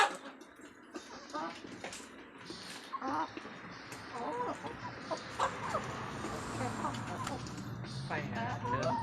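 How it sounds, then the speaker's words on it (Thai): White laying hens clucking in a backyard flock at dusk, soft repeated clucks and calls scattered throughout, close by, with a person talking over them. "อันนี้ไก่ไข่อยู่ไก่ไข่พันสีขาวนะ"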